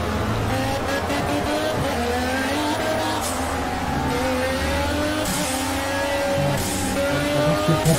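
A race car in Project Cars roars at high revs, engine pitch climbing through gear changes while tyres squeal and skid in short bursts, loud and close throughout.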